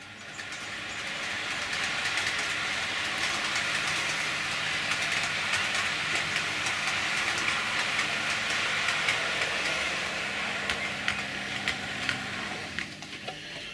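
An OO gauge Heljan Class 35 Hymek model diesel locomotive running on a model railway, a continuous whirring motor hum with faint rail clicks, steady and close, without talk.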